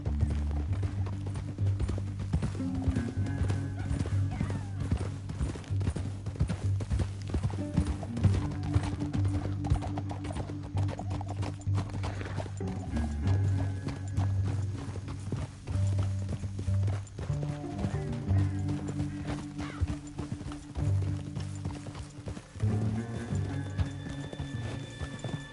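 Horses gallop in Red Dead Redemption 2, a dense, continuous clatter of hooves with occasional whinnies, layered over a sustained musical score.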